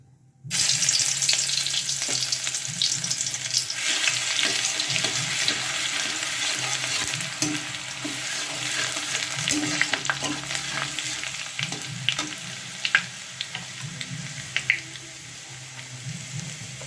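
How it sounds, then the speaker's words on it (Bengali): Garlic paste frying in hot oil in a home kitchen, a steady close sizzle with stirring scrapes, running alone for the whole stretch. "তেল গরম হয়ে গেছে, এবার আমি রসুনগুলো দিয়ে দেবো।"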